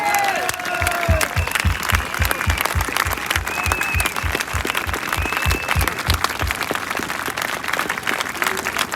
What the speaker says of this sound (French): Je souhaite désormais que nous l'acclamions par des applaudissements pour le remercier éternellement